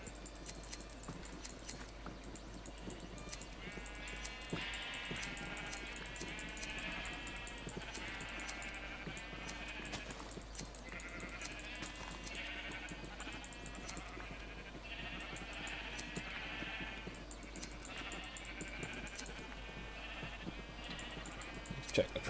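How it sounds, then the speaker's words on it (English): Sheep bleating in Minecraft, a mass of repeated bleats from a herd running through much of the stretch over a steady low hum and background noise, with a voice talking occasionally. "Driving mass of sheep."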